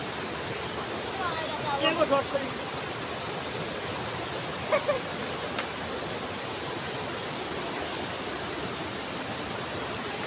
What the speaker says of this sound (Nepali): यस्तो डरलाग्दो खोला छ